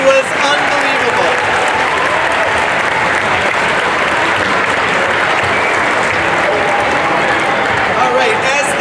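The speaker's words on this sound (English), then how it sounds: "let's give them one more round of applause." An elementary school holiday concert audience gives a third grade chorus a long, loud round of applause, with dense, sustained clapping and some crowd noise mixed in.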